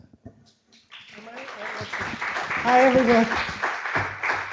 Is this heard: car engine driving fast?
no